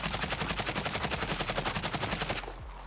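An AK47 with a 30-round magazine fires in Call of Duty Warzone, a rapid, even stream of loud automatic shots for over two seconds before cutting off into a brief fading tail.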